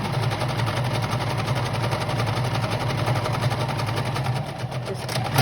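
A sewing machine stitches appliqué in a steady, fast mechanical chatter, running continuously at a moderate level without pause.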